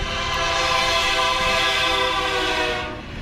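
A train horn blares loud and steady inside a railroad tunnel, one sustained multi-tone blast lasting about three seconds before fading slightly at the end.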